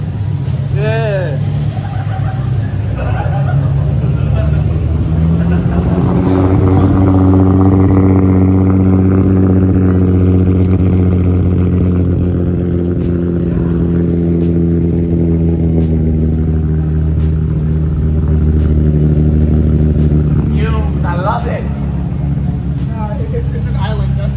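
An Infiniti G35 engine idling steadily after a lower plenum install, cold and warming up, a loud continuous drone throughout while people talk nearby.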